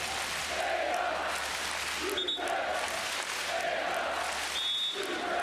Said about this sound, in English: you can hear the crowd going, Flüggen,